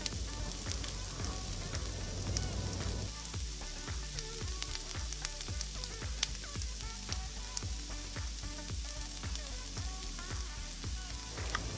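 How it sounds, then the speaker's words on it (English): Pre-seasoned beef stir-fries in a pan, a constant loud sizzle with rhythmic scraping strokes of the spatula repeating steadily through the stretch. "Now fry your pre-seasoned beef."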